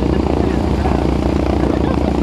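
A Stearman biplane circles overhead setting up for landing in a right-hand pattern at an air festival, its steady propeller drone filling the clip continuously, with a voice talking over it.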